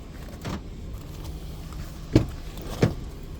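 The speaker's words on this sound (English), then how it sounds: "Let me open the back." The rear hatch of a 2018 Ford Explorer 4WD being opened, a few brief close clunks and latch clicks over a quiet background.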